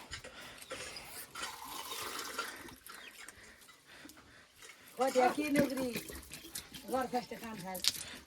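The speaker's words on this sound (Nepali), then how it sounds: "अर्को चाहिँ अझै पानी हाल" Water splashes and pours into a container in short bursts, with people talking nearby in between and over the trickling.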